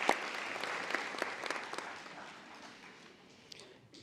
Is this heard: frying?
no